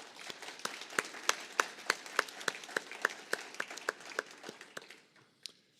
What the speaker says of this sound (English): Let's have another round of applause for all of our generous sponsors.